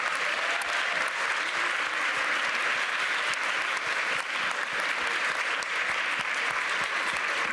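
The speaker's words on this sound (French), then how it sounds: "je vous demande de les applaudir" Sustained applause from an audience at a UNESCO campus event on water, steady dense clapping filling the room without pause.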